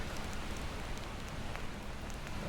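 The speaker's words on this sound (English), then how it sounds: "and it's raining" Steady rain falls on a beach in the video game Enderal, a dense, even hiss of drops on surfaces that continues without a break.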